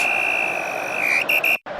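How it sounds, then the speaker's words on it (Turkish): A long, steady high-pitched final whistle in the mobile football game Head Ball 2, followed by two short toots, then an abrupt cutoff, with a constant background hum. "İşte son düdük."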